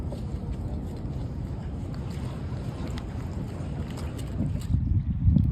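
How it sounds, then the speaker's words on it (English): Boat on the open water at Half Moon Bay, California, on a crab fishing trip, giving a steady broadband engine and water rumble with wind buffeting the microphone, growing a little louder and rougher near the end; no talking. "Ending this video off with the boat. The boat's pretty cool. It's just a boat doing boat things."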